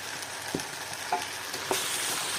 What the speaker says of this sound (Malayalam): ഇതൊക്കെ ഇട്ട് കൊടുത്തിട്ട് നന്നായിട്ടൊന്ന് ഇളക്കി എടുക്കാം.